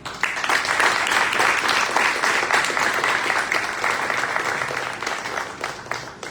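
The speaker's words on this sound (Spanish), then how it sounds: "quiero que la recibamos con un fuerte aplauso" An audience at a lecture hall conference on gender-focused public policy gives a sustained, loud round of applause welcoming a speaker, steady clapping that thins out slightly toward the end.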